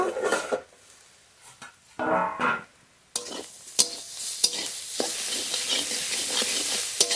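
Mustard greens frying in a pan with turmeric and salt, stirred over and over: loud close sizzling broken by a few pauses, with sharp clanks and scrapes of the spatula against the pan and no voices.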